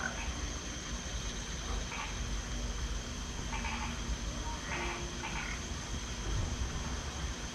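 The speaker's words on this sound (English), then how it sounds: "Something over there is croaking like crazy." Animals croaking at night in Costa Rica, a steady, dense chorus of croaks over a constant background hum, with a few brief louder bursts and no talk.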